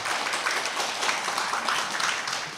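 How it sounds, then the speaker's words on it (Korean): High school students at a math lecture clap together, a dense, steady patter of hands that holds at an even level for the whole stretch without a break. "수학 좋으신 분 지금 박수 한번 쳐주세요"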